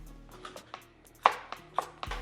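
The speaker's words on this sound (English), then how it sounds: "I'm just going to roughly chop each of these" A knife roughly chops bell peppers on a cutting board in a home kitchen, giving about half a dozen irregular, crisp thunks close by, with one louder strike standing out; no one speaks.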